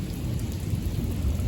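Heavy rain pours down steadily in a strong summer lightning storm, a dense continuous roar with low thunder rumbling underneath, close and unbroken with no voices.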